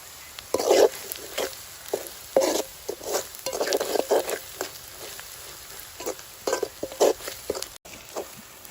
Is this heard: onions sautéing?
yes